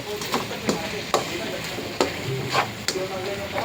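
Carrots sizzle and fry in a pan as a utensil stirs and scrapes repeatedly, giving rhythmic close clacks over a steady hiss.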